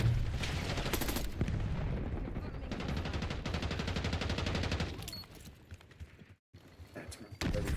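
Gunfire from shooting at an enemy in Black Ops 6 rattles in rapid bursts and continuous volleys, fairly quiet, with a brief drop-out near the end.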